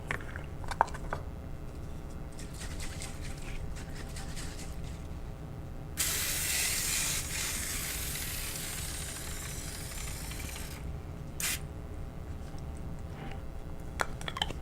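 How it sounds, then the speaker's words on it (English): Cooking spray hisses from an aerosol can onto a square disposable baking pan in one steady burst of about five seconds, then a brief second spritz, with faint handling noises around it. "first you're going to want to spray it with some cooking spray."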